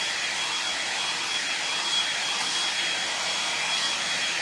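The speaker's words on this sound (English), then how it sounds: "while this blow dryer is" A hair blow dryer runs continuously with a steady, loud, airy whoosh, close by and alone without talk.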